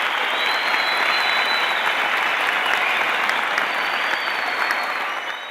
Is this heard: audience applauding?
yes